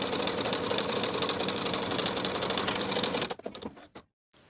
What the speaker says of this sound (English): We're going to gather the bottom piece from one top side edge straight across to the other with the longest stitch on your machine.